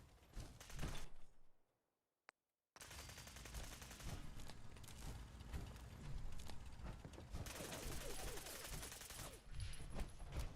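Sustained gunfire from Fallout 4, loud dense bursts of shots with a brief silent gap after the opening salvo, then continuous firing and clatter to the end.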